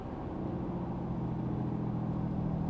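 A RAM truck's Cummins diesel coasting with the exhaust brake engaging, a steady, close, low engine drone with a rough rumble and no break across the clip.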